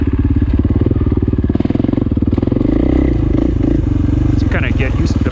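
A Husqvarna FE501 dirt bike engine runs steadily and loud while being ridden, with a continuous pulsing drone that holds throughout, with someone talking over it.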